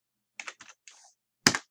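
An install command is typed on a computer keyboard as a few quick bursts of soft clicking keystrokes, then a single louder key press at the end, close and otherwise quiet.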